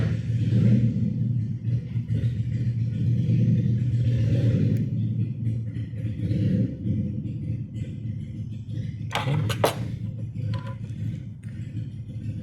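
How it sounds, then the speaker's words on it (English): Motorcycle engines from a nearby repair shop rumble steadily in the background for the whole stretch, a low continuous mechanical drone with a brief sharper clatter near the end. "work right next to a motorcycle repair shop, so sorry for the background noise."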